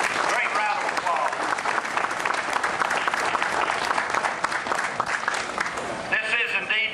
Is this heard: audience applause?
yes